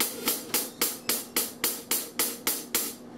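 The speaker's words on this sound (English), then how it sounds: "if I move my leg while I'm playing the hi-hat" Eleven crisp hi-hat chicks in a steady, even rhythm, each sharp attack followed by a short sizzling decay, close and fairly loud with no other sounds.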